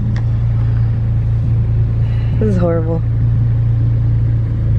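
A loud car exhaust rumbles steadily, a deep idle drone running right through, close and continuous beneath people talking.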